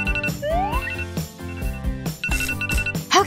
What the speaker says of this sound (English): Okay, let's shut off this alarm.